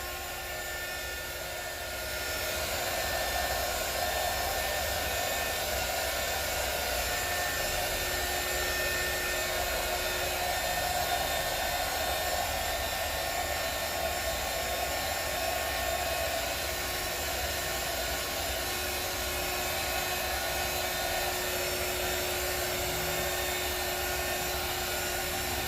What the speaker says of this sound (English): Now I'll bring out my heat wand again